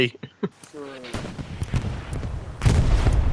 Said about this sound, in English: their artillery's basically just honed in on our OP